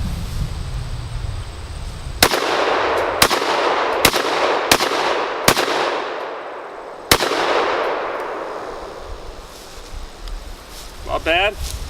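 A Tristar Raptor ATAC shotgun fired six times at uneven intervals, each blast sharp and loud with a long rolling echo, and a faint clatter near the end.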